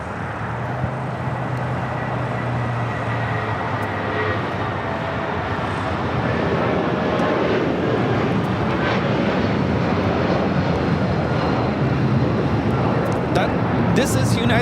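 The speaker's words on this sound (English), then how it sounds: "This is United Airlines 1260 taking off to Denver, Colorado on a 757-300" United Airlines Boeing 757-300 taking off from Los Angeles International Airport, a steady broadband jet engine roar holding loud and constant throughout, with background talk faintly underneath.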